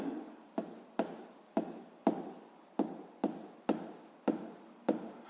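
A pen scratches across paper in a run of about ten short, even strokes, each one starting with a sharp onset and fading out, close and fairly quiet, with no talking over it.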